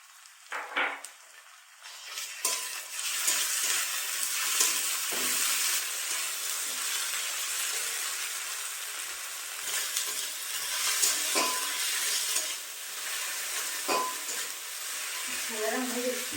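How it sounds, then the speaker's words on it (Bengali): A steady, loud sizzle of onion and ginger-garlic paste frying in a pan, with occasional stirring and light clatter of utensils throughout. "পেঁয়াজটা ভাজা ভাজা হয়ে গেছে, আদা রসুন বাটাটা দিয়ে দিলাম"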